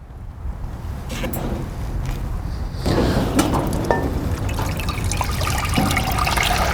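Maple sap trickles through a filter during syrup making, a steady close-up stream of running liquid that grows fuller and louder partway through and then continues evenly, with no talk.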